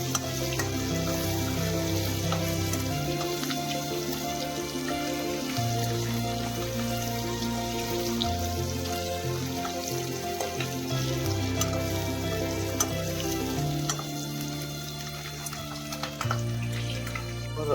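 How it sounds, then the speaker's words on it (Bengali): Eggs frying in a kadai for a mushroom masala, a steady sizzle under a loud, continuous bed of music, with no talking. "আরেকটা কড়াইয়ে আমরা ডিমগুলোকে ভেজে নেব"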